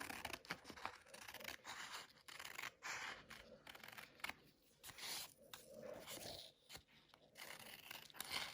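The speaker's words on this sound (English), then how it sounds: "I'm just going to cut mine." Scissors snip through paper while a spooky Halloween banner shape is cut out, giving repeated crisp, close cutting and rustling strokes that come in uneven bursts with short pauses, with no talking over them.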